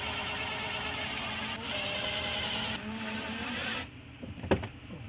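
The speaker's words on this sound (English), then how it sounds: "I'm trying grabbing some screws in here, see what gives. Just screwing in." A power driver runs screws while a cab goes onto a John Deere 1023E tractor, giving a steady, fairly close whir in bursts that change pitch, then stop into quieter clanks and handling noises.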